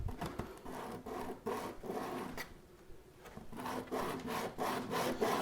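Sandpaper is rubbed by hand over a 3D-printed radio knob, a faint scratchy back-and-forth rasp in uneven strokes with a brief pause partway through.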